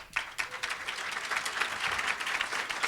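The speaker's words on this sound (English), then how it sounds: "you join me by applauding them" Audience applause at a Hispanic leadership summit in Chicago: dense, steady clapping from a full room that begins sharply and holds strong throughout.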